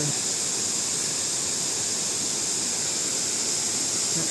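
Mae Ya waterfall roars as a steady, loud, unbroken rush of falling water, close and even throughout with no voices over it.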